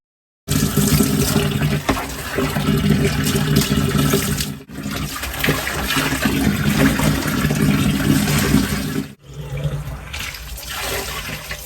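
A single plate is washed under a running kitchen tap, the steady water rushing loudly and continuously with two brief breaks and slight shifts in tone as the flow strikes the dish.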